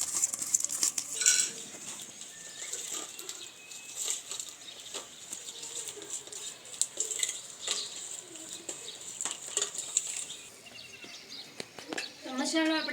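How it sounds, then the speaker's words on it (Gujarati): A spoon stirs a spiced filling of salt, red chili powder, turmeric, chopped coriander and oil for stuffed onion and brinjal, making close, irregular metallic clinks and scrapes against the bowl. "અને બધું આપણે સરસ રીતે મિક્સ કરી લઈશું"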